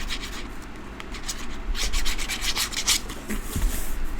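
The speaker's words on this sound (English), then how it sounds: "We're going to glue this flap down." A paper card flap being rubbed down firmly to glue it in place, producing a continuous close, dry scratchy rubbing with quick repeated strokes and no talking.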